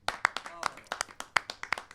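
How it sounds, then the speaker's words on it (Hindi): Scattered hand claps from an audience greeting a comedy poet onto the stage at a Hindi poetry gathering, a thin, uneven patter of a few claps rather than a full ovation, with a voice talking over it. "जोरदार तालियों से स्वागत करें"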